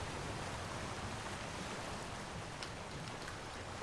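A waterfall rushes in the video game Elder Scrolls Online, a dense, steady roar of falling water with no pauses, heard alone.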